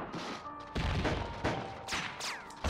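Launcher fire in the 7 Blades video game, a rapid series of loud bursts and crashing impacts with whooshing sweeps in between, fairly close and dense, with no talking.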